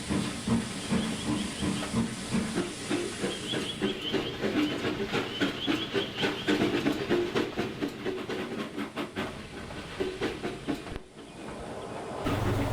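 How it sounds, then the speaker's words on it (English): A cartoon steam engine pulls away in a loud sustained hiss of steam, its rhythmic chuffing and clicking wheels building and then fading, with a brief drop near the end. "Edward left in a huge cloud of steam."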